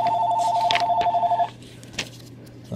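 A telephone rings with a pulsing electronic warble for about a second and a half, then stops, leaving faint room sounds and a few soft clicks.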